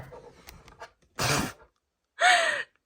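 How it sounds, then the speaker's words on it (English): A sharp, pained gasp as a hand is burnt on a hot glue gun, followed by a second strained vocal outburst, close and sudden, after a moment of quiet rustling. "That was the sound of my hand getting burnt against my hot glue gun."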